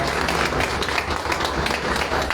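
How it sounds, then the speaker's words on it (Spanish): Loud, dense applause from a church congregation honoring their pastor, a continuous roar of clapping up close, with no speech. "¿Cuántos le dan un aplauso a Dios por la vida de mi pastor?"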